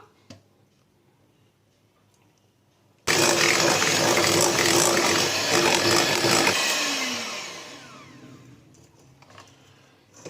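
Electric beater whipping eggs, sugar and oil for an orange cake, starting abruptly after quiet, running as a loud steady whir for a few seconds, then fading and slowing to a stop.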